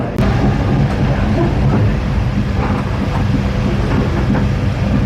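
Argo Wilis train passing close by near Kiaracondong station in Bandung, a loud continuous rumble and rattle of rail cars sustained throughout with faint clattering.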